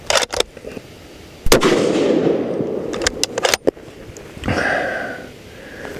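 Sig Cross .308 rifle firing factory ammunition outdoors, a few sharp loud shots spaced apart with reverberant tails, plus handling clicks between them.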